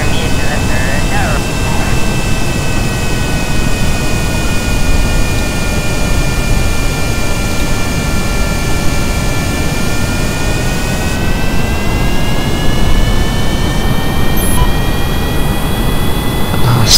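Airplane jet engine in the video game Kerbal Space Program, a loud, steady whine and roar that holds for the whole span, with thin tonal lines drifting slowly in pitch and no talk over it.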